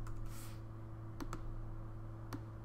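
A few sparse keystrokes on a computer keyboard tap out single clicks against a steady electrical hum, with no talking.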